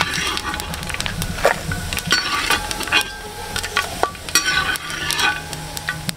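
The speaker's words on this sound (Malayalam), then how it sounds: "നമ്മൾ കോരി മാറ്റുവാണ് തേങ്ങ കേട്ടോ." Grated coconut with curry leaves fries in a pan as it browns, and a spoon stirs and scrapes through it. A continuous sizzle runs under repeated scraping strokes.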